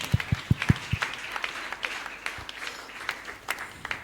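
A church congregation claps and applauds at a moderate distance. A few sharp, distinct claps open it, then the applause thins into scattered, fainter clapping under a murmur of voices.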